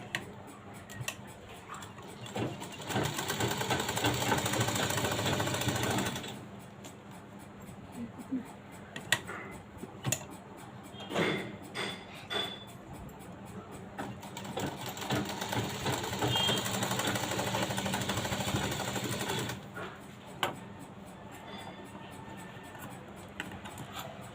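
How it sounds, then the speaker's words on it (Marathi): Sewing machine stitching along the sides of a fabric triangle for a blouse latkan, running in two long steady bursts of rapid stitching separated by quieter pauses with small clicks and handling sounds. "याच्या बाजूनी आपल्याला शिलाई करून घेऊयात"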